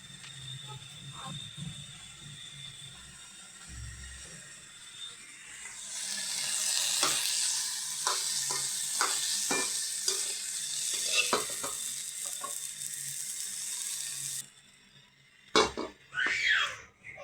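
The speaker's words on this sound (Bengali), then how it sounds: "এখন বুটগুলো ভাজা নিতে আছি" Chickpeas frying in a pan. A soft background hum gives way to a bright, loud sizzle that starts partway through, with repeated stirring clicks and scrapes until the sizzle suddenly stops near the end.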